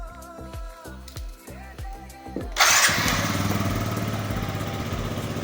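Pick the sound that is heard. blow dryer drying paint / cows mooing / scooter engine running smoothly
scooter engine running smoothly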